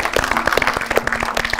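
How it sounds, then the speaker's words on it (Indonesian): Audience applause for a UGM student team on a quiz show set, a brief burst of dense, steady clapping close by with no talk over it. "Tepuk tangan dulu dong untuk UGM"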